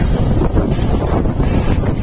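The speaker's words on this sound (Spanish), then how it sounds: "En medio de la mancha el viento nos azotaba" Strong wind buffets the microphone during a cycling race in Andalucía, a loud, continuous rushing roar that fills the whole stretch without letup.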